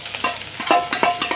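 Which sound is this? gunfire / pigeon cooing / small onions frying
small onions frying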